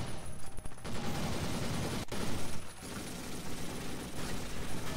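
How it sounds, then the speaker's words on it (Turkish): Sustained dense gunfire in a zombie video game, a steady loud roar of rapid shots running almost continuously with brief gaps, no talking over it. "Birisini vurdum."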